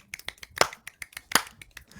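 A quick series of sharp hand claps, about a dozen close together in an uneven rhythm, with two louder cracks standing out.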